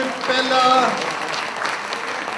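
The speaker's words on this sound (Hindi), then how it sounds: "जोरदार तालियां होनी चाहिए।" Audience applause, a short steady burst of clapping with a voice speaking over the start.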